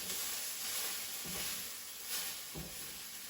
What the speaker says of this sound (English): All right, I'm going to put this broccoli in now. And stir fry it.